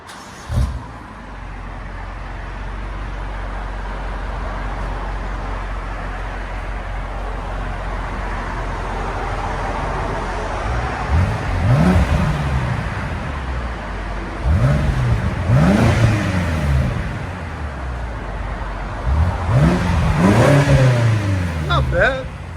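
A 2015 BMW X5 M engine idles with a low rumble, then revs sharply three times at an even spacing on its stock exhaust, fairly close and loud.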